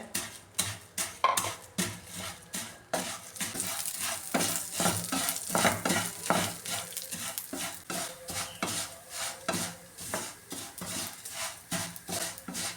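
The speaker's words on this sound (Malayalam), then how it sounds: "ഇനി ഒന്ന് നന്നായിട്ടൊന്ന് വറുത്തെടുക്കാം നെയ്യിലിട്ട്" Vermicelli fries in ghee in a pan, a steady crackling sizzle with frequent scraping and clinking of a spoon stirring against the metal, close and fairly loud, with no talk.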